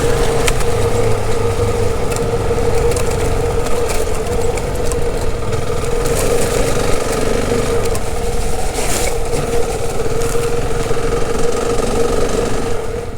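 Honda CRF300 and Husqvarna adventure motorcycles run their engines on a rough Australian trail, a loud, close, steady mid-pitched engine drone with a constant hum and rattly texture throughout, no talking over it.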